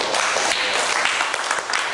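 Dense applause from a crowd fills the whole moment, a steady wash of clapping without pause.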